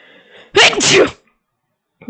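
A single loud, sharp sneeze bursts out close by, followed by near silence and a brief faint sound at the end.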